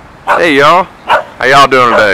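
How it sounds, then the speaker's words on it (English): A dog barks close by outdoors on a windy day, its yelps mixed in with a man's cheerful spoken greeting that runs over most of the moment. "that's my dog barking"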